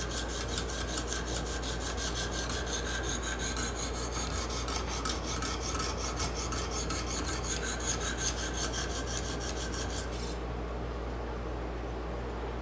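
A steel neck knife blade rasps steadily against a fine diamond sharpening plate, continuous dense scraping strokes close up that cut off near the end, leaving a duller rub.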